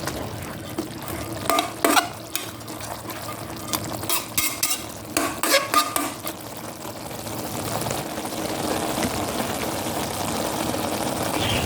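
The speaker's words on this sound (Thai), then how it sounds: "ใส่ผักหวานลงไปครับผัดคลุกเข้าให้เข้ากันครับ" Sweet leaf greens being stir-fried with crispy pork cracklings in a spicy pan, with loud bursts of spatula scraping and tossing at first that give way to a steady, close sizzle.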